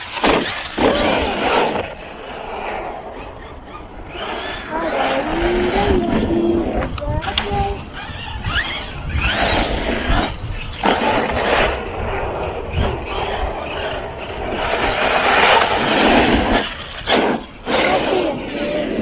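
An Arrma Kraton 6S RC car whines and buzzes past in repeated bursts, with motor pitch rising and falling and loud gravelly bursts in between.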